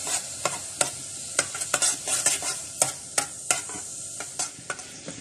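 Orange marmalade with lemon juice simmers in a pan while a spoon stirs it, giving a soft bubbling sizzle punctuated by repeated sharp scraping clicks against the metal, close and without talk.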